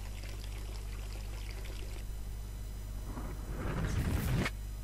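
In the video game Dead Synchronicity, water pours onto a generator: a steady low hum runs throughout while a rushing splash of pouring water builds and cuts off abruptly.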